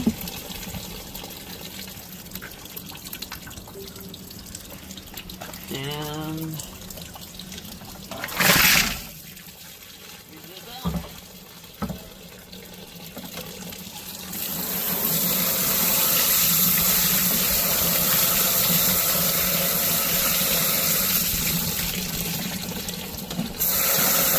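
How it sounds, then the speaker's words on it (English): Water running as a rock tumbler barrel holding agates is rinsed, a broad rushing flow that builds in the second half after scattered knocks and clatter. "Give it a rinse and wipe down."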